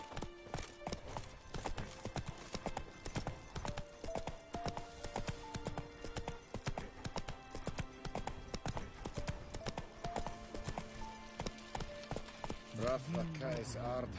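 A horse gallops in The Witcher video game, with steady clip-clop hoofbeats running throughout and a brief neigh near the end, under game music and voices.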